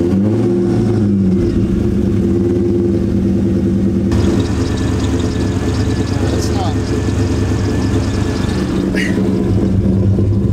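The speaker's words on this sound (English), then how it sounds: "They told me that it squeals kind of loud when you start it, but then calms down" A 2003/2004 Ford Mustang Cobra engine with a new belt tensioner pulley rumbles steadily and close, then catches partway through with a brighter surge and a faint thin belt whine riding over the running engine.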